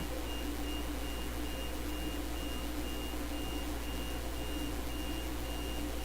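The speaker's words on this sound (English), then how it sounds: "I hear a beeping noise. I'm guessing that's your 3D printer, Daryl." A faint electronic beep from a 3D printer repeats at a steady, even pace over a constant low hum, sounding distant and thin.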